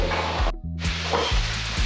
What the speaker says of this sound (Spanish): ya tenemos las papas friéndose